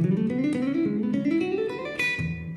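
Electric guitar plays a fast, even run of hammered-on notes in repeating groups of three, climbing gradually up the neck, clean and fairly close.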